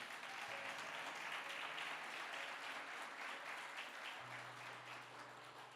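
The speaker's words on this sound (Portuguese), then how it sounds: "Então aplauda você que é de Atos 2:39." Church congregation applauding steadily and loudly throughout, a dense wash of many hands clapping together in a large room, with a low hum beneath it.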